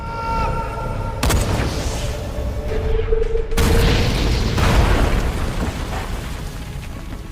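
A loud explosion hits suddenly, followed by a second blast and a long rumbling roar of debris and noise that slowly fades.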